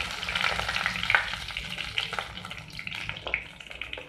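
Turmeric, whole tempering spices and a bay leaf fry in a little oil, giving a crackling sizzle that flares in bursts and then settles to a softer hiss, close by with no talking.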